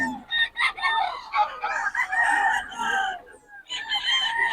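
Stag roosters at a Bocaue tiangge market crowing and clucking in a busy chorus, several birds overlapping near and loud with brief gaps.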